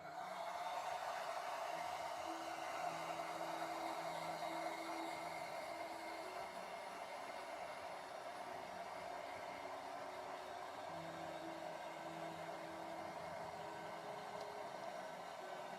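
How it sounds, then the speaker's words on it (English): A hair dryer blows steadily to dry clear coat on a painting, a constant even whoosh with a faint motor hum, unbroken for the whole stretch and without speech. "I'm just hitting them with the air dryer, the hair dryer."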